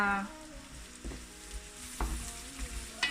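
Crushed ginger and garlic sizzle in a pan for rougail saucisse, a steady close frying hiss broken by a few sharp stirring scrapes and clinks.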